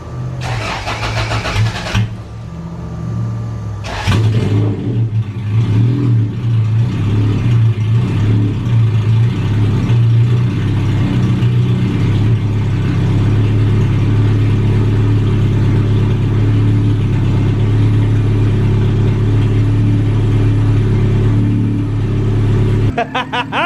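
A car engine cranks and catches after injector and fuel filter work, then runs at a loud, steady idle with a few revs, heard close.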